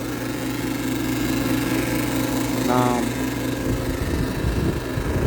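A refrigerant recovery machine runs on a Trane Voyager rooftop HVAC unit during a tandem compressor replacement, giving a steady, loud mechanical drone with a constant low hum throughout.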